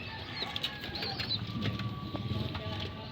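Racing pigeons leave the loft with a burst of wing flapping and light cooing, fairly close, with quiet rustling around them.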